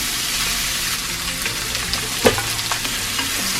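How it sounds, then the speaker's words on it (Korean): Seasoned dried zucchini strips stir-fried in rapeseed and perilla oil in a preheated pan over medium heat give a steady close sizzle and crackle, with a soft clatter of stirring partway through. "그리고 중불에서 살짝 볶아주세요."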